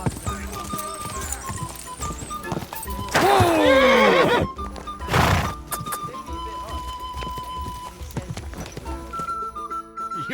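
A horse in Kingdom Come Deliverance 2 lets out a loud, close whinny, and a second burst follows soon after, over clip-clopping hooves and thuds in a medieval game scene.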